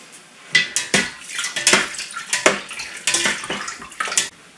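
Salted cheese curds for homemade chechil are stirred in whey in a pot, giving wet sloshing swirls with light clinks of the utensil against the container, close and in uneven strokes.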